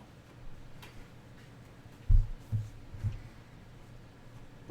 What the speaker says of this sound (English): that's the sound of stuff hitting the water